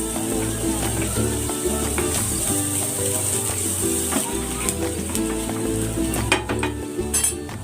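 Onion sizzles loudly in a hot pan, a constant frying hiss with occasional clinks of a utensil stirring against the metal, while a voice talks faintly over it.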